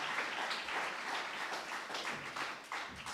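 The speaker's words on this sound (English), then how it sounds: "Do a big round of applause." A big round of applause from the crowd at a community mental health and wellbeing launch, a soft, continuous wash of many hands clapping, heard from a distance and fairly faint.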